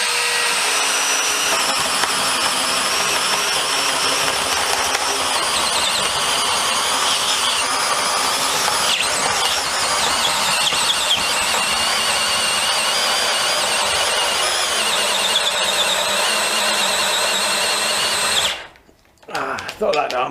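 A DeWalt DCD701 12V brushless cordless drill whines steadily at high pitch for a long stretch, boring into wood with a 32mm bit with grinding texture, then cuts out near the end and briefly restarts.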